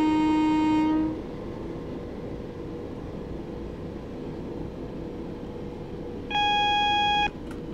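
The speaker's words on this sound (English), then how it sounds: "Warning there for an upcoming speed restriction of 50 miles per hour" In Train Simulator 2018, a Class 375 train cab gives a loud, steady electronic tone at the start and a second shorter warning beep near the end, both over a constant low rail rumble.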